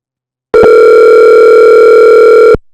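Loud, steady electronic telephone tone, one continuous sustained note lasting about two seconds after a brief stutter at the start, heard alone without talking.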